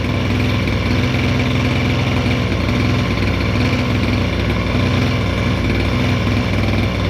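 A Redcat Rampage MT V3 1/5-scale gas RC truck engine runs steadily after being leaned out, a loud continuous buzzing drone close by with no talking.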